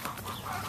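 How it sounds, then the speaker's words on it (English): Hens sitting on eggs in farm nest boxes give a short, close burst of soft clucking, with no talk. "you have a couple hens sitting on eggs here"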